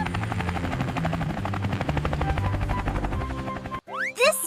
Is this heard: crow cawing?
no